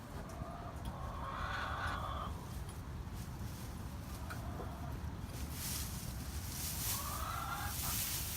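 Chickens cluck in a coop over steady wind or outdoor noise, giving several drawn-out, close clucks and calls in separate bursts spread across the stretch.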